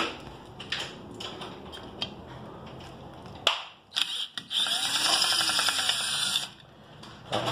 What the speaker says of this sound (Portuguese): colocar na parafusadeira e tirar